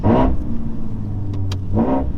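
Nissan 370Z running without a catalytic converter, two sharp loud revs at the start and end with a rumbling idle between and a couple of faint clicks.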